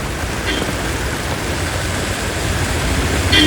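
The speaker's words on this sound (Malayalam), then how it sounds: "ഭയങ്കര മഴ" Heavy rain pours on a vehicle, heard from inside as a loud, continuous broadband roar that holds steady and swells slightly near the end, with no talk heard over it.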